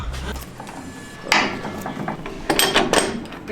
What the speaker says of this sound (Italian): Congelano gli scarponi a -20 e poi li mettono su tipo questo super martello per picchiarli e vedere quanto durano